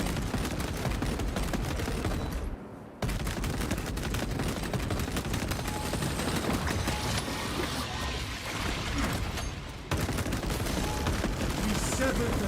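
Heavy battle din from the Space Marine shooter on the Reclamation map, with dense continuous gunfire and explosions forming a loud wall of noise, broken by one short near-silent gap and a sudden drop near the end.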